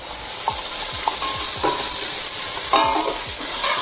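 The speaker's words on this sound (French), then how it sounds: "notre huile est chaude, on vient verser nos lardons à l'intérieur" Bacon lardons hit hot oil in a pan for a traditional lentil soup, a loud steady sizzle with repeated scraping and stirring knocks throughout, close up and without talk.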